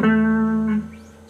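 Blues guitar lick, a quick little run of notes ringing out with sustained tones that decay over about a second, played alone and fairly close.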